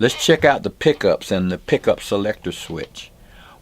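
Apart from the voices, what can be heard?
No distinct noise like a dog, phone or traffic.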